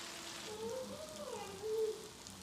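Milkfish (bangus) fries in hot oil in a pan, giving a soft, continuous sizzle and crackle with faint patter, quiet throughout, while a voice talks faintly in the background.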